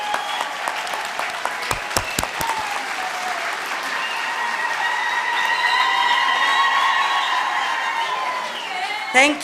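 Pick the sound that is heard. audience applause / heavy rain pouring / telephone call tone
audience applause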